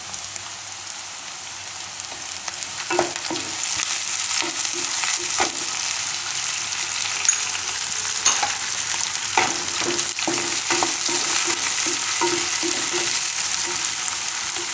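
Onion and green garlic stir-fry in hot oil in a pan, giving a continuous hissing sizzle with scattered light clicks of stirring throughout, no voices.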